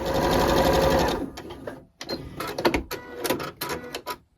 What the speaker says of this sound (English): I'm going to stitch down and sew these 2 together